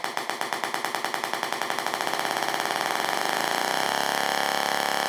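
Small desktop Tesla coil driven at rising frequency: a loud buzzing pulse train that speeds up from distinct clicks into a continuous harsh electrical drone.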